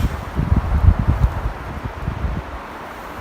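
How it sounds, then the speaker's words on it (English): Winter wind gusts outside a Polish military lavvu tent, a low buffeting rumble and rustle that swells and fades irregularly close to the microphone, no voices. "You can hear the wind still"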